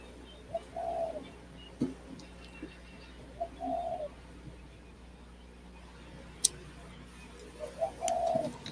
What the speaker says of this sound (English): Sure not the pigeons that we hear.